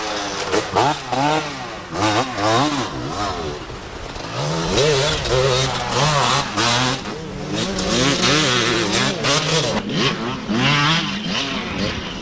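Suzuki enduro motorcycle on a special test, its engine revving hard in rising and falling surges as it accelerates and shifts, loud and close, with brief lulls between bursts.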